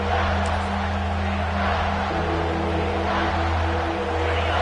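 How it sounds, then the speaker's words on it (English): A college football stadium crowd roars steadily in a dense, continuous wash of cheering while the defense holds in the red zone, with no break in the noise. "the crowd coming to life here trying to help this defense down in the red zone"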